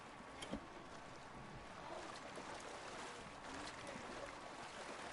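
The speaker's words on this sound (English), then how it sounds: "Water makes a lot of noise." Running water in the video game The Forest, a steady faint rushing wash that holds through the whole stretch with no talk over it.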